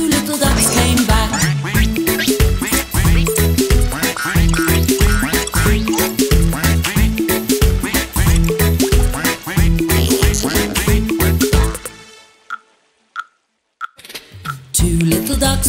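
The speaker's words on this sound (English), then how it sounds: "Mother duck said, quack, quack, quack, quack." Cartoon duck quacks in a bright nursery-rhyme song about little ducks, riding a loud, busy musical backing that drops to near silence near the end.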